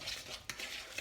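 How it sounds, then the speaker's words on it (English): Guacamole being mixed in a bowl with olive oil, a soft scraping and stirring with a few sharper clinks of utensil against the bowl, fairly quiet and close, with no talking. "Now I'm just going to give that a real good mix up now"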